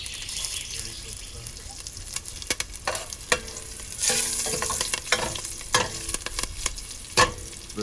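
Curry leaves and garlic fry in hot oil for sambar, with a continuous sizzle, sharp crackles and the scrape of a spoon stirring the pan, close up, with a voice faintly in the background.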